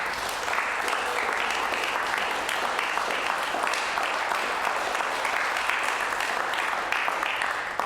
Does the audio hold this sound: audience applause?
yes